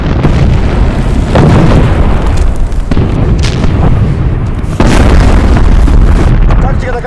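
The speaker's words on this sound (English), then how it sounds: "Artillery fire was launched." Artillery fire and explosions from a war film about Soviet soldiers facing German tanks, heard as dense, loud booming blasts and rumbling bursts that fill the whole stretch and swell again near the end.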